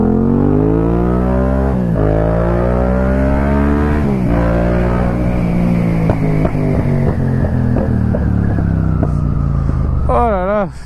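A motorcycle engine revs hard and steadily, its pitch climbing and dropping through repeated throttle bursts, loud and close throughout.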